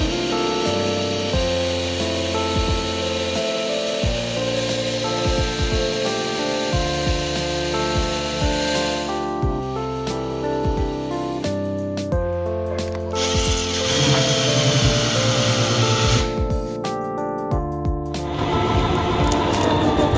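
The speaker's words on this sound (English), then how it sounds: "So we're going to drill." Steady whirring of an electric drill running continuously for about twenty seconds, with a few short changes in pitch and load as it drills a hole through a caravan for an antenna.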